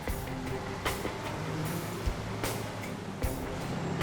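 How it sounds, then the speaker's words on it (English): A rough, rumbling truck engine idles steadily up close, with periodic knocks and clatters breaking through the low drone. "Running like an old truck does. Noisy and stinky."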